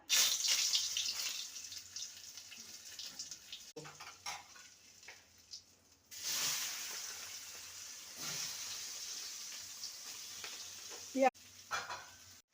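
Oil and butter sizzle in a wok with a steady, hissing fry, broken by short gaps and occasional stirring scrapes, close and fairly quiet.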